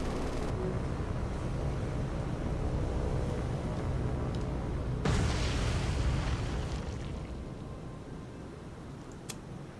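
Ship guns fire and shells explode in the naval video game War on the Sea, a dense continuous roar of booming blasts with a sharp burst midway, then slowly easing off.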